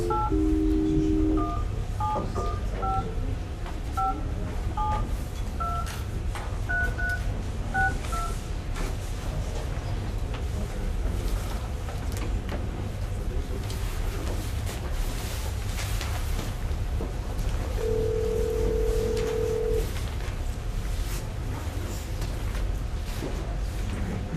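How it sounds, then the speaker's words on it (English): A touch-tone phone dials a string of DTMF beeps to reach a remote participant at a school board meeting, followed after a pause by a single longer ringing tone, all over steady room noise. "I'm going to call Betty Mannion, who will be participating by phone"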